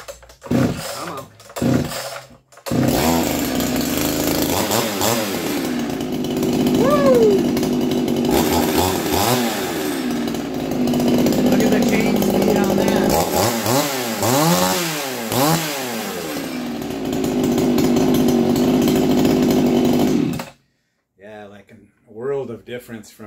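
A chainsaw runs loud and close for a long stretch, its engine revving up and bogging down repeatedly as it cuts through wood, with brief talk.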